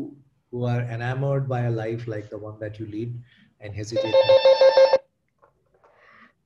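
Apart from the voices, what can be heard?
mobile phone ringing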